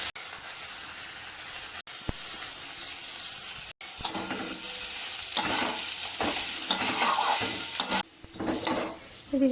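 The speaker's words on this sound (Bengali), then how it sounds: "এদিকে চলছে চালটা ভাজা" Pulao rice frying in a pan after cashews and raisins, with whole garam masala added: continuous crackling sizzle under repeated scraping stir strokes and light clinks of a spoon against the pan, close and fairly loud.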